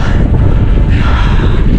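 Strong wind on Bistricior peak in the Romanian mountains roars and buffets the microphone in a loud, continuous rumble with no talking.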